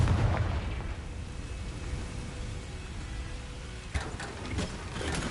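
A Confringo fire spell in Hogwarts Legacy explodes as a rumbling, broadband blast, followed near the end by a sharper crack and some crackling debris.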